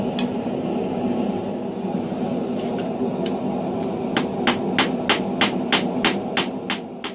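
Blacksmith hammering hot steel while forging a knife edge, sharp metallic ringing blows that start sparse and then fall into a quick steady rhythm, heard over a constant roar from the forge.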